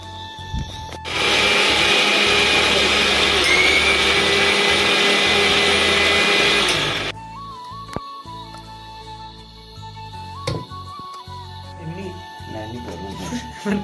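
A mixer grinder whirs loudly and steadily for several seconds, then stops suddenly, followed by people talking and light clattering.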